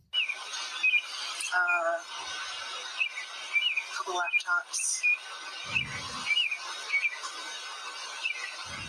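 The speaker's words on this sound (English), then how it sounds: "I hear birds chirping." Small birds chirp repeatedly in the early morning outdoors, light tweets scattered over a steady background hum, with people talking nearby.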